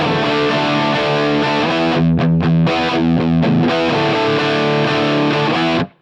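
Distorted electric guitar chugging a chorus riff, loud and close, with thick sustained power chords broken by a few quick choppy stabs before ringing out and cutting off.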